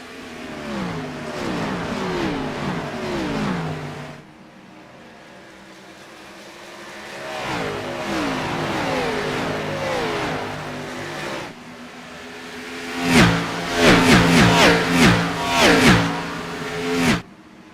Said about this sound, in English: Take a listen to these cars.